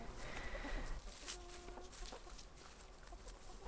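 Hens cluck softly outdoors, with a few short tonal calls in the middle over a steady background hiss.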